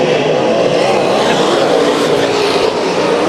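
Sport Mod race cars roar around Bakersfield Speedway during a Friday heat race at the 2013 Bud Nationals, a loud, steady, unbroken wall of engine noise close by.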